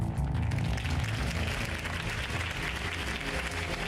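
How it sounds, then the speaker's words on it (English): Crowd applause in a Batman video game after Harvey Dent's campaign speech, a dense, steady wash of many hands clapping that holds evenly for about four seconds. "If only Mr. Wayne, my campaign's largest backer, could have heard that applause"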